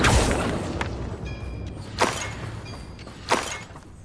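Confringo fire spell blasts in Hogwarts Legacy gameplay: three sharp explosive bursts with whooshing tails land about every one and a half seconds over a low rumbling backdrop, moderately loud and without speech.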